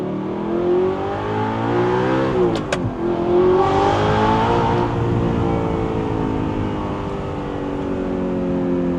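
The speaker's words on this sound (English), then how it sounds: "I love this engine because it just sounds so melodic" A tuned Audi R8 engine with a gated manual and loud exhaust drones steadily and then revs up, its smooth tone climbing and holding at a high, loud pitch.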